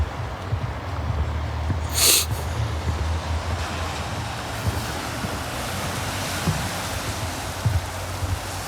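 Waves washing onto a small beach in Corsica, a steady broad surf rush with wind noise buffeting the microphone and a brief louder gust, continuous and fairly close, with no one talking.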